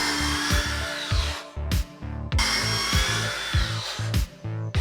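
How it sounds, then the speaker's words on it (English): Pocket hole drilling into wood for a frame on a converted Harbor Freight dust collector, loud close drill whine in repeated bursts with brief pauses between them. "slow-mo pocket drilling is awesome"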